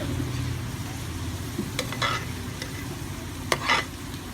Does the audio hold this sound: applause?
no